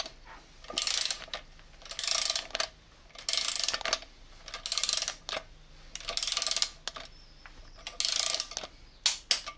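A torque wrench ratchets as the clutch bolts on a Mazda RX8 are tightened in a cross pattern to 26 Nm: about six separate bursts of sharp clicking, close and evenly spaced, with short pauses between them.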